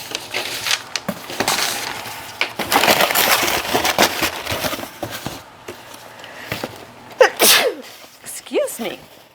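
A single sudden sneeze bursts out close to the mic while someone packs items for online resale shipping, with handling noises and rustling around it.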